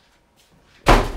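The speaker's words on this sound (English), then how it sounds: "That was a door slamming." A door slams once, a sudden loud bang after near silence, in a quiet empty building with a little wind outside.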